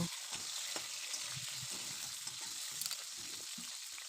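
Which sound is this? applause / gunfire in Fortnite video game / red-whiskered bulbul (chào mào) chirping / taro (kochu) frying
taro (kochu) frying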